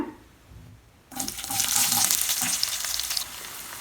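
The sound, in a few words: onions sautéing in oil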